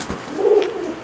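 A single soft, low coo from flown pigeons in Old City Jammu rises and fades over about a second, close by, with faint outdoor background noise.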